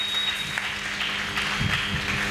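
Church congregation applauding loudly after a sermon prompt, a dense, continuous roar of clapping from many hands filling the room, steady throughout with a few louder swells.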